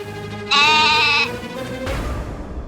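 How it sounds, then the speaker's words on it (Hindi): A goat, loose near a village house, gives a single loud, close, drawn-out bleat with a wavering tone, trailing into rustling noise. "अरे लगता है बड़की दादी की बकरी को किसी ने फिर खुला छोड़ दिया।"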